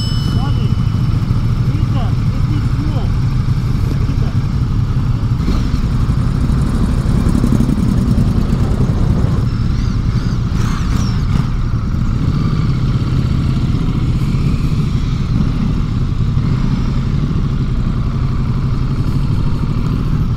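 A Ducati Multistrada V2S motorcycle is being ridden, its engine a steady, continuous drone with road and wind noise throughout, while a voice talks over it.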